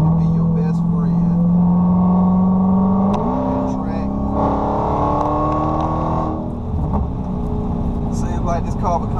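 A Dodge Charger Hellcat engine drones steadily while driving on back roads, its low tone stepping up in pitch partway through, with people talking in the cabin over the engine noise.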